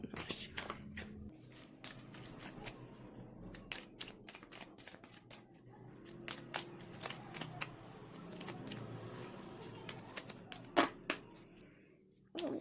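Tarot cards are shuffled close up in a quiet room, a fast run of soft riffling snaps and flicks repeating in bursts, faint overall with no talking.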